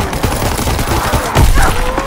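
Pistol shots bang in Call of Duty WWII Nazi Zombies, a loud rapid string of gunfire against a dense game soundscape, with one heavier thump partway through.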